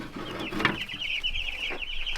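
Meat chickens cluck and call under heat lamps in a warm brooder, one bird's drawn-out squawk standing out close by over soft background noise.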